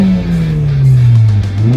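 A 1997 Honda Accord sedan engine revs loudly and steadily, its pitch sagging slightly before climbing again, heard alone and close up throughout.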